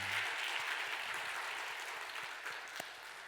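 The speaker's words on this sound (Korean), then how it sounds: "우리 마음 담아서 우리 힘차게 환영의 박수 한번 하도록" A church congregation at a Korean Sunday service gives a warm round of welcoming applause for new members, moderately distant and steady for a few seconds.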